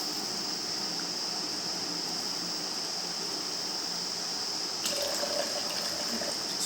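Distilled water pours steadily into a container while ash dish soap is being made, a continuous gushing hiss close by with no talk.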